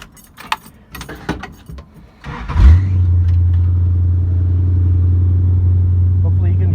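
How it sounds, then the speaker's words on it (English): Keys jingle and clink in a few quick metallic bursts, then the engine of a Dodge Charger starts and settles into a loud, steady idle. "let me get my keys out"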